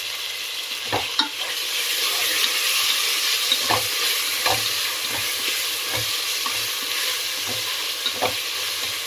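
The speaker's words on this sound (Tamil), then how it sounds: "ஒரு மூணு பச்சை மிளகாய் சேர்த்துருக்குறேன் சேர்த்து நல்லா இதுவும் நல்லா வதங்கி வரணும்" Tomatoes and green chillies sauté in a frying pan with a steady sizzle, broken by repeated scraping stirs of a spoon or spatula at close range, no voices.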